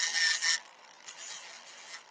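Sanding a mesquite wood bowl by hand, a loud bright rasping rub at first, then softer, lighter scraping strokes, close by and with no talk.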